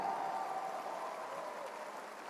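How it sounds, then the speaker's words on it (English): Audience applause at a McIntyre-Shaheen 100 Club political event in New Hampshire, a faint, steady wash of distant clapping that holds evenly throughout with no voices over it. "We'll give them a big round of applause."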